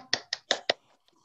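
Four sharp hand claps ring out close and evenly spaced in a lecture hall in thanks to Dr. Jang In-soon, then the room falls nearly silent.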